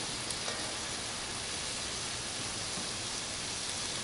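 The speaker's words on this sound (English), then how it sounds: "I know some people would probably brown this a little bit more, but I don't want to scorch these onions" Onions browning in a pan with smoked sausage, a steady soft sizzle and hiss that holds evenly throughout, close and without talking.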